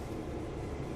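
A train in the Train Sim World 2020 simulator pulls slowly away, its low, steady rumble and rolling noise holding even and moderately loud throughout with no voices.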